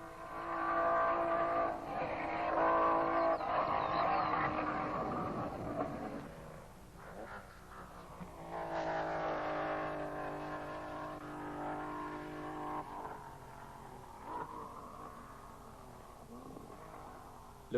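1957 Formula 1 Maserati race cars lapping and passing at speed at the Reims French Grand Prix: a loud, continuous engine roar with rising and falling pitch as the cars flash by, with no talk.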